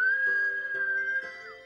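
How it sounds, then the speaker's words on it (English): A single clear, high whistle held steadily for over a second before sliding downward and fading. "To his team gave a whistle"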